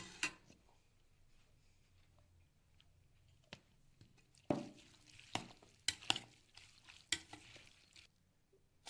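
Hummus being stirred together with chopped parsley and olive oil in a bowl, heard as soft scraping and squelching strokes with a few sharper clicks of the utensil, close and fairly quiet, no talking.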